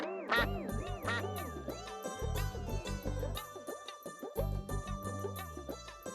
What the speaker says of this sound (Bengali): একটু প্যাক প্যাক করো না।